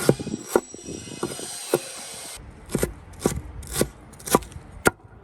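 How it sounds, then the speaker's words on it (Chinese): Purple ginger being chopped with a knife on a board: a steady series of sharp, close chops at an uneven pace, with no talking. "紫姜切起来"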